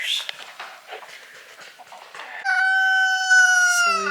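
Roosters on a homestead cluck and chatter in short bursts, then one lets out a long, loud, close crow, with layered bird calls throughout.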